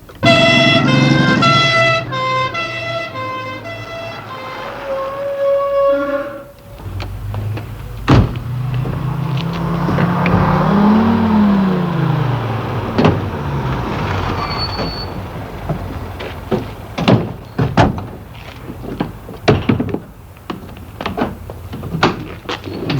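Radio drama sound effect of a car driving off, with door clunks and a swelling engine and road rumble that grows loud, followed by scattered knocks and clatter.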